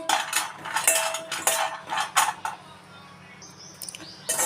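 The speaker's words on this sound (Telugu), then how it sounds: "దీనిలోనే బాదం వేయించుకుంటున్నాను" Almonds roasting in a pan over low heat, heard as repeated scraping and clinking of a utensil against the pan in short bursts, close and moderately loud.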